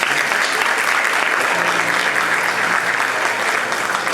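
Sustained applause from an audience opening the ISFFC 2025 festival, a dense steady clatter of clapping at even loudness throughout, with no speech over it.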